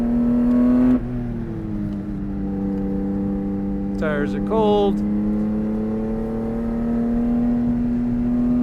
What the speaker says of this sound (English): Car's a little loud.